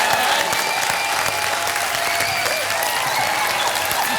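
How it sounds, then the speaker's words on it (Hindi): Studio audience applauding steadily on a Hindi comedy game show stage, a dense, even wash of clapping that holds at full strength for the whole stretch with no voices standing out. "तालियां"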